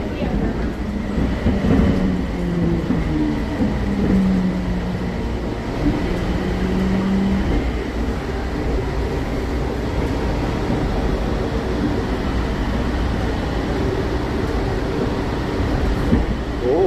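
Continuous low rumble of a Bangkok Gold Line elevated light rail train in motion, with a rising tonal whine early on and a steady hum throughout.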